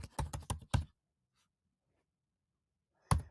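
Quick burst of several keystrokes on a computer keyboard, then silence, and one more short keystroke near the end, close and fairly quiet, with no talking.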